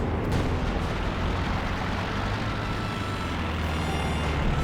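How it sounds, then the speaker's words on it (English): Land Mattress rocket artillery barrage in Company of Heroes 2, a dense continuous rumble of rockets and blasts that forms a wall of noisy booming with no clear gaps, fairly faint overall. "Yep, land mattress counter barraging the land mattress."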